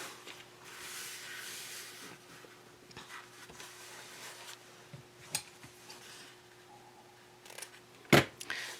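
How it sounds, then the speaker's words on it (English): Scissors making a small clip at the folded corner of fabric, a single sharp snip near the end after quiet handling rustles. "you're going to take your scissors and just make a small clip on the corner where the fold is"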